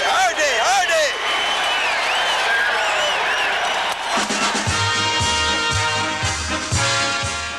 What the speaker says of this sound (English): There's that standing ovation, Pat.